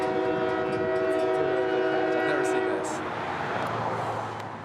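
CSX freight train L781 on the Brooksville Subdivision near Tampa sounding its multi-chime horn loudly as it passes, the chord holding for a few seconds before giving way to rumbling wheels and rail noise.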